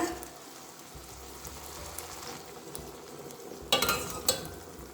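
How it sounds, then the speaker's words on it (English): Hot water is poured into a hot pan with pancetta, giving a steady sizzling hiss with sharp spattering bursts partway through. Nobody speaks. "Now we're going to add the hot water."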